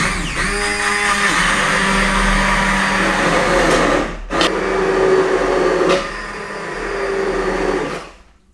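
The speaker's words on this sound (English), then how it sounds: "that's why I'm using an immersion blender, so I'm keeping it in this pot" An immersion blender whirs loudly and steadily in a pot of soup, briefly cutting out and restarting twice as it churns through the liquid, then winds down.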